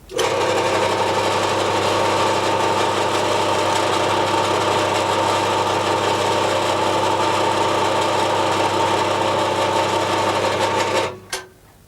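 Homemade recorder running a magnetised steel strip: a loud, steady motor whir and mechanical hum holds evenly for about eleven seconds, then stops abruptly with a brief clunk, close and without speech.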